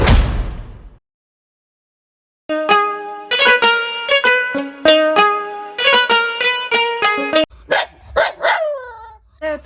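A dog barks repeatedly in quick, close bursts, a series of sharp yaps after a brief noise and a pause of silence.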